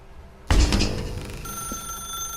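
A telephone in the video game The Stanley Parable starts ringing abruptly and loudly, its bright bell-like tone sustained and then settling into a steady electronic hum with no voices.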